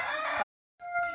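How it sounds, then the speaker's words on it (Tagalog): Brahma chicken, the large breed, crowing at an ostrich farm on Siquijor. A close, harmonic rooster call is cut by a brief silence, then resumes as a second drawn-out note. "Brahma chicken po ito, pinakamalaking manok."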